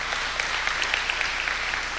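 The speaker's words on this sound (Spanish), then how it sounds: "Démosle ese fuerte aplauso al Señor" A church congregation gives a brief round of applause for the Lord during a water baptism service, a steady, moderately loud patter of clapping with a low hum underneath.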